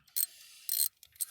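A ratchet wrench working on an engine during a head gasket change, heard as a few short, close mechanical clicking bursts separated by quiet gaps.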